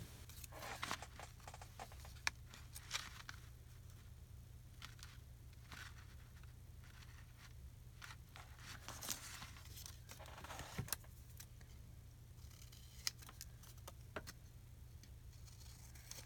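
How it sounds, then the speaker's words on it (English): Scissors snip around a printed photo for a planner page, with faint, irregular cuts and paper rustles scattered over a quiet room hum, close by and soft, with no talking. "I'm just cutting around it."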